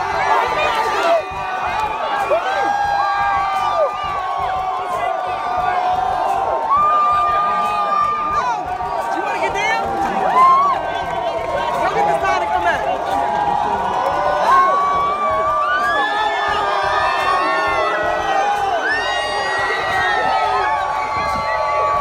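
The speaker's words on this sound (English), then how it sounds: "when they saw him, they bursted into cheering" A large crowd of Oklahoma City Thunder fans cheers and shouts outside an airport, a dense, continuous roar with whoops and high yells rising over it for the whole stretch, with voices talking among them.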